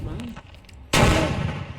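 A sticky bomb detonates on an aircraft in the Indian Bike video game, a sudden loud blast at about the one-second mark after a quieter stretch, with a rumbling burst that decays over the following second.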